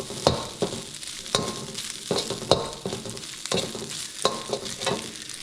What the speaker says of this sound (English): now let's add the vegetables and the beef back in. Stir it up to mix it.